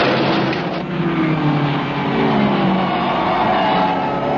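A 1930s Alfa Romeo Grand Prix race car drones along at speed with a steady, loud engine roar and a slight swell, heard through old, band-limited recording.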